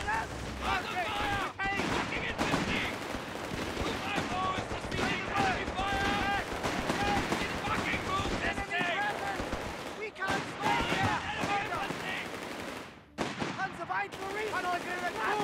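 Machine gun fire in the World War II strategy game Company of Heroes 3, with Afrika Korps forces in a 4v4 multiplayer match: dense rattling bursts and scattered gunshots continuing almost without pause, with shouted unit voices and a commentator talking over the fire.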